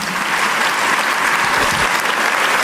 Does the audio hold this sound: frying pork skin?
no